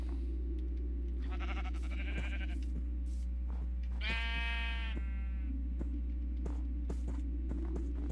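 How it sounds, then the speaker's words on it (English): Sheep in Minecraft bleat twice, fairly close and distinct, over a steady low electrical hum with faint clicks, with no talk. "You bloody sheep. Always wandering off."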